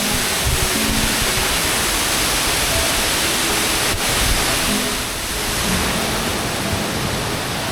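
Anderson Cascades on the Milford Track, New Zealand, roar as rain-swollen water tumbles down, a loud, dense, unbroken rush filling the whole clip with no voices.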